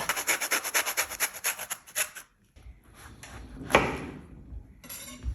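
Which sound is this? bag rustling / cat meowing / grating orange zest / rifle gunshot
grating orange zest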